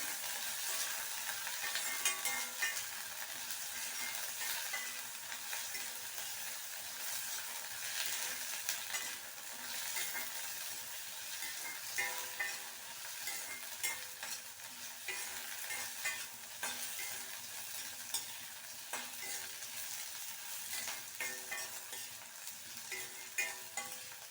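Eggplant sautéing in a hot pan, a dense continuous sizzle with constant stirring and scraping running steadily throughout, close up and without talk.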